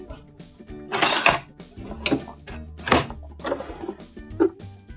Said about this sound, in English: I think I'm gonna move to a whisk